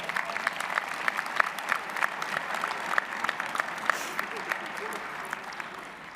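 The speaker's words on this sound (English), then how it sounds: "Give them all a round of applause." Steady round of applause from a large audience at the 2024 Westminster High School graduation ceremony, with sharp individual claps and murmured crowd voices in the background.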